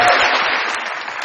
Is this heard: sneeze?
no